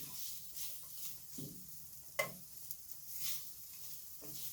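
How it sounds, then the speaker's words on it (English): Meat and onion frying in a pan give a soft sizzle, and tongs stir through it in a few scraping pushes with one sharp metallic tap. The sound is quiet and close, with no voices. "just dump all our meat and onion into the pan"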